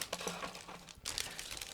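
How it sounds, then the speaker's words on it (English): Plastic bag crinkling and rustling as it is opened while unpacking a 1/35 scale plastic model kit, in close, quiet, irregular bursts of small crackles. "I'm opening one more plastic bag"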